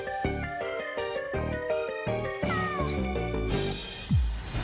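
A wet cat meows a few times with rising and falling cries, set against steady musical tones in the background.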